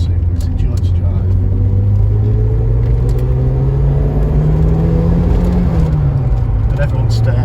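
A 1985 Ford Escort RS Turbo drives along Lincolnshire country roads, its engine rumbling loud and close, the pitch climbing gradually and then dropping as it shifts, with someone talking over it.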